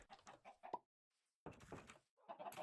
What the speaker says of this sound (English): Then I put in a little chicken